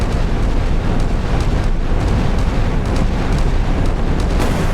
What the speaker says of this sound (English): 40 mils are firing